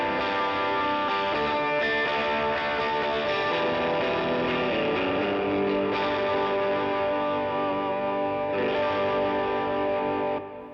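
Electric guitar played through a Morning Glory overdrive pedal, a steady, thick driven tone with sustained chords and notes ringing continuously and loudly throughout, no talking.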